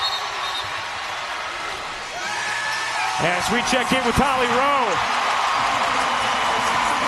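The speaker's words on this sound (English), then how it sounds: "Listen to the ovation. This is for Izzy Besselman, the walk-on from Baton Rouge." A crowd roars in a steady ovation for senior walk-on Izzy Besselman from Baton Rouge as she enters late in No. 6 LSU's 16-point home win over Tennessee in SEC women's basketball, a sustained wash of noise under continuous commentator speech.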